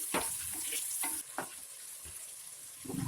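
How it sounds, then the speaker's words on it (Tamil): Sliced onions sautéing in a pan for coconut milk brinji, a soft continuous sizzle with several distinct scraping stirs of a spoon, fairly quiet and close. "வெங்காயம் வந்து நல்லா வதங்கட்டும்."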